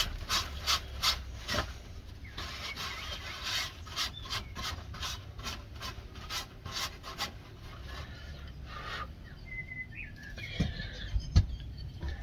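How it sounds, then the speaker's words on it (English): Cloth dampened with rubbing alcohol wiped across an engraved slate coaster, close rubbing and rasping strokes in a quick irregular rhythm, with a few small knocks near the end and no talking. "Give it a bit of a clean, get any of the residue off."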